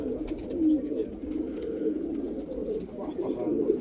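A pair of Yana Döner pigeons, Arab and Şerefa type with a female, coo steadily and close in a continuous low rolling murmur, with someone speaking over them.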